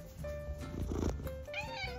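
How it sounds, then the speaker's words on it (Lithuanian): A cat on a cold winter day meows with a drawn-out, wavering call near the end, over a low purring rumble and a steady background hum. "Gražuolis katinas mano."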